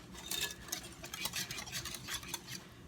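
Quiche mixture is whisked briskly in a bowl, a quick, continuous run of light metallic scraping and clicking strokes, fairly quiet and close, with no talk.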